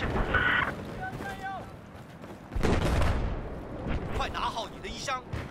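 Battlefield 4 video game combat, with machine gun fire and distant explosions rumbling through a busy mix of battle noise, chirping tones and a radio-style voice in the game.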